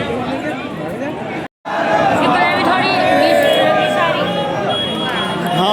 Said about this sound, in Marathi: खूप गर्दी होती दर्शन लाईनमध्ये, प्रचंड गर्दी होती.